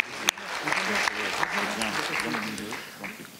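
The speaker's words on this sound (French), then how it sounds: "Donc vous pouvez applaudir les éleveurs qui montent sur scène." An assembly hall audience claps as cattle farmers come up on stage, a moderate spread of hand claps with a few sharper strikes, mixed with chatter and voices throughout.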